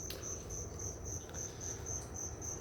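Crickets chirp in an enclosure at a reptile shop at night, a steady run of evenly spaced high trills repeating without pause, close and clear over a quiet background with no talking.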